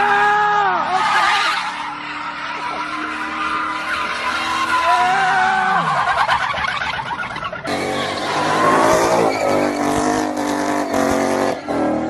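Car at a Florida street takeover spinning its tires and skidding, a loud continuous squeal with rising and falling pitch and a roaring engine, close and intense, with brief crowd chatter mixed in.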